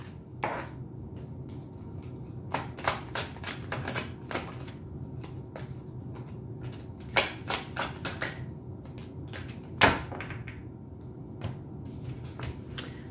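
Tarot cards being shuffled and drawn make a run of sharp, close, quiet clicks and snaps in irregular bursts over a faint background hum.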